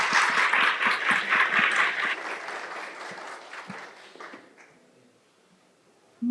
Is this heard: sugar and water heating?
no